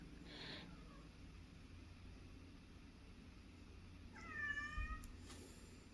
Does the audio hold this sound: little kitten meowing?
yes